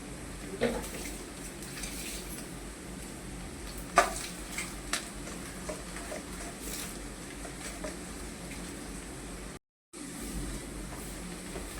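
Onions frying in a pan for a sprouted mung bean dish, a soft, steady sizzle with a few sharp stirring clinks and a brief dropout near the end.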